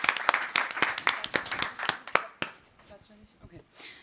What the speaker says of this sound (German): Erstmal vielleicht einen Applaus